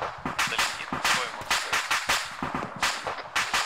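Gunfire in ARMA 3 rings out as a rapid series of sharp cracks and bursts, several shots per second in uneven clusters, fairly close and loud throughout.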